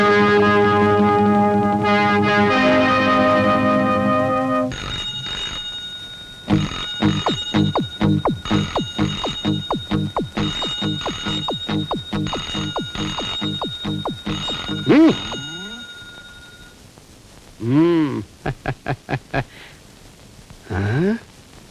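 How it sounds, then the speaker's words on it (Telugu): A telephone rings repeatedly in a Telugu film scene, with sustained tones at first and then a long series of rapid bell-like trills that stop and start again, with voices in between. "రింగ్ అవుతుంది ఆగిపోతుంది, రింగ్ అవుతుంది ఆగిపోతుంది"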